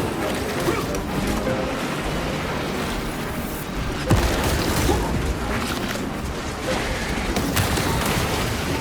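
Tyranid bombardment in Space Marine 2, a continuous rumbling barrage of rapid bursts and heavy thuds with one sharper impact partway through, dense and unbroken, while a voice speaks over the noise.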